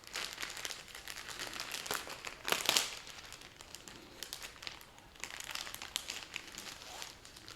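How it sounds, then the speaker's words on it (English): A plastic bag holding Lugana cross-stitch fabric crinkles continuously at close range, with a louder burst of crackling partway through and softer rustling before and after, and no speech. "so sorry about the crinkling"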